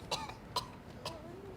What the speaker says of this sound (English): I have this racking cough that's a terrible thing to hear.